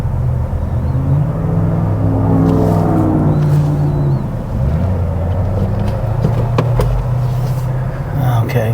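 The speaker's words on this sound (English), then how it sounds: "Okay, 2 more cars," Cars pass along a busy street, with a low rumbling engine and tyre noise that swells and fades as vehicles go by, heard outdoors from close range under a voice talking.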